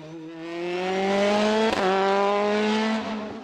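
A Tatus Formula Master race car at the Turckheim hillclimb screams past up close, its high engine note climbing steadily through the gears with a brief shift blip midway.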